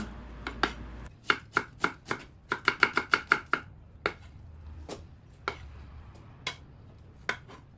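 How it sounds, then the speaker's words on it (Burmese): A knife chops red onion and ginger on a board, with a quick run of sharp, even cuts followed by slower, scattered strokes, close and clear with no voices. "ကျွန်တော်ကြက်သွန်နီနဲ့ဂျင်းကိုပပလေးလှီးပြီးတော့စီးတက်ဖို့အတွက်လုပ်ပါမယ်ခင်ဗျာ"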